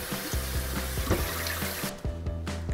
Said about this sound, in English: I'm just gonna rinse this